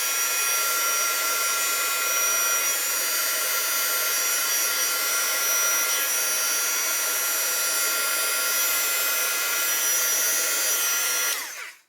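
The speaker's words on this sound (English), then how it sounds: "You can go ahead and use your heat tool." Heat tool blowing air over wet watercolor paint, a steady, loud, close whooshing roar running unbroken for about eleven seconds before cutting off abruptly at the end.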